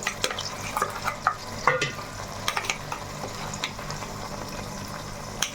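Raw masala paste for a fish curry frying in a pan, a steady soft sizzle with occasional stirring scrapes and small pops throughout, close and moderately quiet with no talking.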